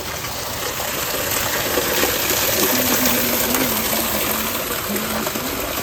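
Cold spring water flows in a village, a continuous close rushing and gurgling stream with a faint tonal trickle running through it, steady throughout.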